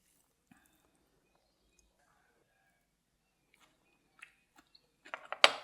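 Crisp bites and chewing of a chilled crunchy vegetable close to the mic, mostly quiet at first, then a quick cluster of loud crunches near the end.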